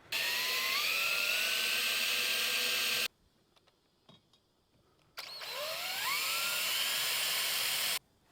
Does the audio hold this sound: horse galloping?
no